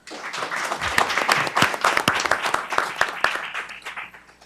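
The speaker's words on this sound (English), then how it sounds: "Give yourselves a round of applause." A school board meeting audience breaks into applause: scattered, uneven hand claps from a modest crowd, with sharp individual claps standing out close by as the sound swells and then tapers away.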